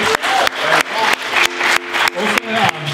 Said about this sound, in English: Can we get a round of applause for Zach as well?